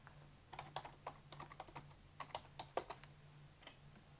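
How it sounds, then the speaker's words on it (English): Faint, quick keystrokes tap out a short command on a computer keyboard, an uneven run of soft clicks over a low background hum, with no speech. "I'll go to the command prompt and type the same command over here"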